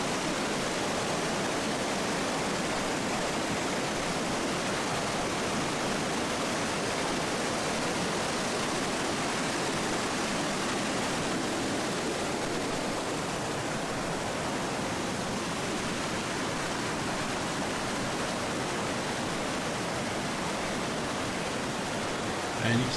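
A steady, unbroken rush of water spilling over rocks at Eurobin Falls on Mount Buffalo, Australia, full and close, with no pauses or voices.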